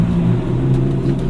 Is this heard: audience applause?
no